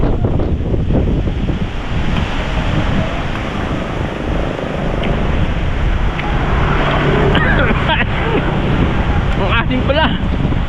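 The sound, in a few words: strong wind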